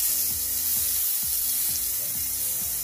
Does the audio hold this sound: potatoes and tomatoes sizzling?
yes